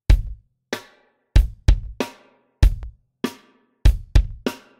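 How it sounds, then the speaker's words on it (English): A slow-tempo punk rock drum beat with a double bass drum on beat three and the 'and' after it. Punchy kicks, snare and cymbal hits fall in a steady, repeating pattern of about nine strikes, played close and dry without talk. "this one has a double bass drum on the 3 and the 3 and"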